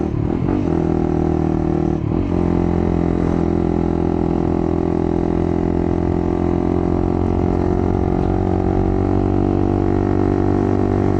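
A Honda CBR150R motorcycle engine runs while the bike is being ridden, a steady loud drone with a strong low hum, holding throughout with a brief throttle change near the start.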